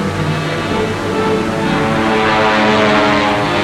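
Propeller engines of Wildcat fighter planes droning steadily, a loud continuous tonal hum from aircraft in flight with no talking.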